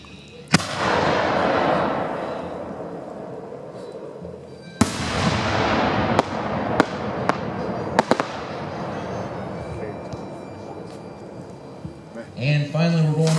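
Firework shells with clockwork timed reports: a loud burst is followed by a crackling wash, then sharp reports at uneven intervals over a fading rumble. Voices are heard briefly near the end.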